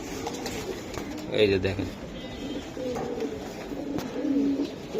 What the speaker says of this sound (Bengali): দুইটা কবুতর এই যে দেন ব্রিডিং এর জন্য অস্থির হয়ে গেছে গা।